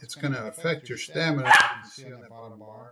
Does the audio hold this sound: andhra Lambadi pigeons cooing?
no